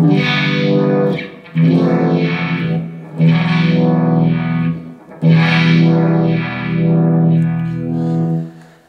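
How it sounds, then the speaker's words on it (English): Sustained chords on an electric guitar through a Tube Screamer overdrive and Uni-Vibe, with a swirling, pulsing modulation effect, played in four long strums that ring out. "the guitar going into the tube screamer, into the Uni-Vibe, into the front of the amp"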